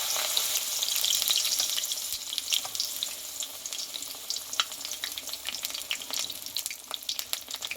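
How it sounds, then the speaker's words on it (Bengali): Pumpkin leaf fritters deep-frying in a batch in hot oil, a loud crackling sizzle full of rapid pops and spits that stays busy and close throughout. "এবার একই পোষে সবগুলোই ভেজে নেব আমি"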